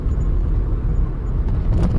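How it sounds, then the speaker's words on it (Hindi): A car engine rumbles low and steady on a deserted night highway as the car slows to a stop, a close, heavy drone with no voices. "इंजन की धीमी घरघराहट सुनसान हाईवे के सन्नाटे को चीर रही"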